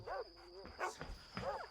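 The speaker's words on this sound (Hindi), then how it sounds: "इन कुत्तों को क्या हुआ?" Dogs bark and whine in a dubbed Hollywood action thriller, two or three short yelping barks with whimpering between them, fairly quiet against a steady high background tone.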